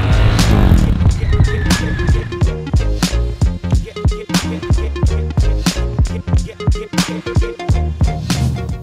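Motorcycle being pushed into a drift with the rear tire locked by the rear brake and the clutch pulled, giving a loud, busy run of engine revs and rhythmic pulses with skidding noise, close and continuous throughout.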